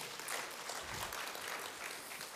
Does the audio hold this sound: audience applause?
yes